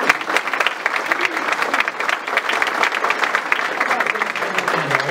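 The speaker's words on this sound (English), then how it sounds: "Let's give her a round of applause." A crowd at a county sheriff campaign announcement breaks into a round of applause, a steady, full wash of clapping from many hands that holds for the whole stretch with no speech over it.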